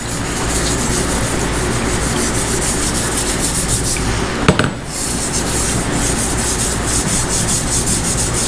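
A pad scrubs rust off chrome under light pressure, giving a continuous, close, loud rasping rub with fast back-and-forth texture. The scrubbing halts briefly at the midpoint and then resumes steadily.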